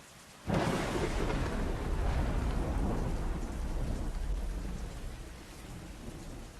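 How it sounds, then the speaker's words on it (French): Heavy rain pours down with a deep, rolling rumble of thunder that swells in suddenly and stays loud throughout. "Quand il pleut comme ça"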